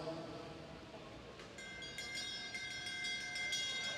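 Rapid metallic last-lap bell clanging at a junior cycling race rings out repeatedly over a murmuring crowd, sustained and bright after a quieter opening.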